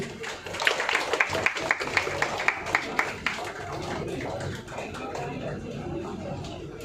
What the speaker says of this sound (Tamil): அனைவரும் கைத்தட்டலாம்.